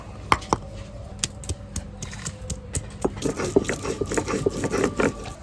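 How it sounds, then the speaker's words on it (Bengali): Fresh ginger being ground or pounded for a bitter dal with drumsticks, giving a series of sharp, irregular knocks and scraping strokes that grow busier and denser toward the end, close up with no talking. "এই আদাটা বেটে নিচ্ছি"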